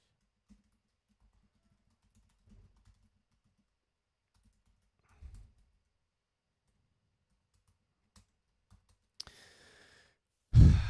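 A computer keyboard is typed on in a quiet room, only a few faint, scattered key clicks separated by long silences, ending with a louder breath or sigh.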